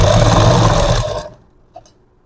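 A sewing machine stitching a shape belt runs in a loud, steady whirring burst for about a second, then slows and stops, followed by a faint click in the quiet.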